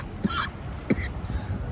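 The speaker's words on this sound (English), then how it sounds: "That is not a COVID cough" Two short, sharp coughs about half a second apart from one person outdoors, fairly close, over faint background noise.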